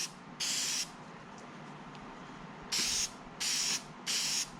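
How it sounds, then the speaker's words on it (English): K&N air filter oil sprayed from a can onto an air filter, four short hissing bursts, the first alone and three more in quick succession near the end, close and fairly quiet. "let's go ahead and oil this. I got K&N air filter oil."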